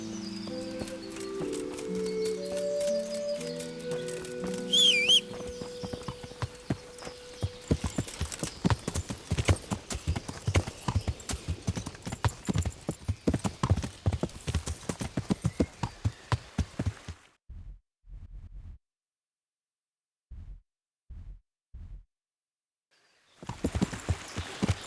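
Horse hooves clip-clop in steady rhythmic steps on a road in Kingdom Come Deliverance, close and clear, continuing for a long stretch before stopping, with a few isolated steps in near silence and faint background music early on.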